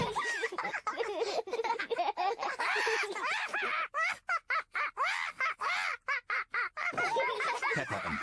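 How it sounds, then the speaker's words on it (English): A cartoon parrot, Polly Parrot from Peppa Pig, squawks and chatters in a rapid string of loud, harsh calls broken by short pauses, close and clear. "Peppa and George are really enjoying playing with Polly Parrot."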